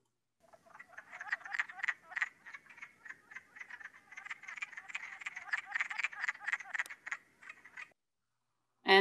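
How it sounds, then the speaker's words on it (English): A wood frog gives a run of rapid, duck-like clucking croaks in close succession, fairly clear against a quiet background, pausing briefly midway before the calls resume and then stop. "here's the wood frog again"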